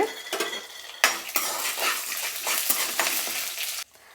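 Cumin, chana dal, crushed garlic, dried chilies and chopped onions sizzle loudly in hot oil in a pan, with a spatula scraping and stirring in bursts, close up and without talk.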